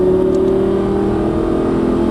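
A Lamborghini Gallardo Superleggera LP570-4 on track under throttle, a loud sustained engine drone holding a steady pitch close by, with no voices over it.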